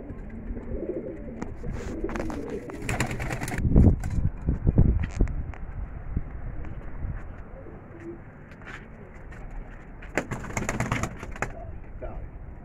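Pigeons on a rooftop coo repeatedly in a low, throaty rhythm, with a few flutters and clatters in between, over a steady outdoor background.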